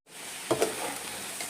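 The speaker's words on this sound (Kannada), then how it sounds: "ನಾನು ನಿಮಗೆ ಮೊಟ್ಟೆ ಎಲ್ಲ ಹುರಿದಾದ್ಮೇಲೆ ಸಿಗ್ತೀನಿ" Eggs frying in a pan for a simple spiced egg dish give a soft, steady sizzle with a couple of small pops, faint and brief.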